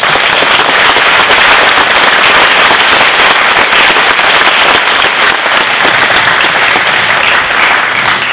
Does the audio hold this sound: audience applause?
yes